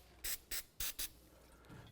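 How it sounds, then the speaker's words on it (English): A cleaner spray bottle hisses in four short bursts onto the rear brake pad tins of a 2005–2016 Toyota RAV4, two pairs of quick, close sprays followed by quiet handling. "Give a little spray."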